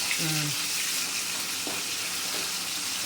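Four green chillies fry in hot oil for pongal, giving a loud, steady, hissing sizzle throughout, with a brief voice near the start.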